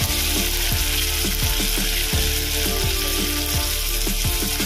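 Cashews, raisins, whole cumin, coriander and whole garam masala spices frying in hot oil in a pan, a loud continuous sizzle with rapid popping and crackling throughout.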